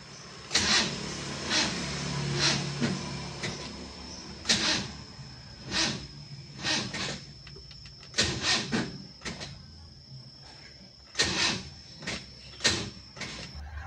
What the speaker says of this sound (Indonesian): kalau seperti ini adalah masalah dari dinamo starter ya